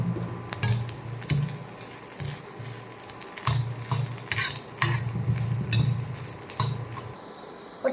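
Chopped, pre-boiled cauliflower fries in a pan while a utensil stirs it, producing a steady sizzle with repeated scraping and clattering strokes, close and fairly loud.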